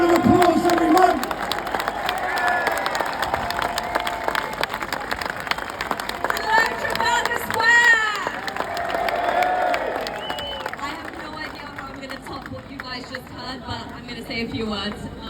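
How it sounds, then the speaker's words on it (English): A lively crowd applauds and cheers as a woman is called up at an outdoor rally, with clapping and whoops blending into loud background voices and chatter throughout. "Give her a round of applause, everyone."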